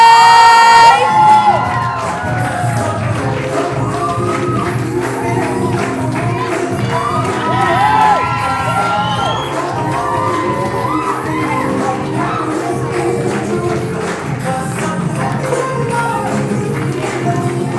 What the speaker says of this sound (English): would you please make as much noise as possible and show them how much love is in the room this evening